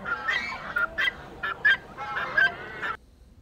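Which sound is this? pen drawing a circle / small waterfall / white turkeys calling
white turkeys calling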